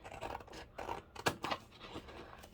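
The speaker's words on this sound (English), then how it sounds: "So I'm taking quite a lot of fussy cutting." Scissors snip repeatedly in fussy cutting around small paper images, close and crisp, irregular cuts with brief pauses between them and no talking.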